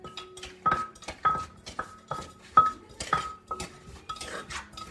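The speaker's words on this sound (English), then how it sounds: "So you're like stirring it up and pounding it down at the same time, right?" Papaya salad is worked in a mortar and pestle, producing a series of close, knocking thuds with light clinks in an uneven rhythm of pounding and stirring.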